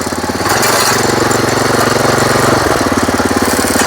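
A new power weeder's engine runs loud and close, chugging in a steady, rapid rhythm that picks up after a brief softer start.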